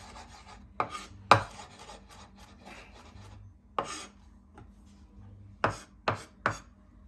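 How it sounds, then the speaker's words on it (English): A knife finely chops large garlic cloves on a board in a scattered series of sharp, close taps and scraping strokes, with quiet gaps between them, for a spicy seafood rice dish. "So I'm gonna use 3 large cloves of garlic, finely chopped."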